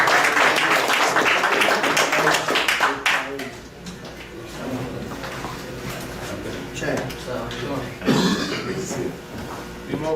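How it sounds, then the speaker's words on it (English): Audience clapping for a champion boxer at a fight press conference, a dense burst of claps for about three seconds that then fades into room chatter and scattered voices, with a few taps later. "Let's clap it up for the champ"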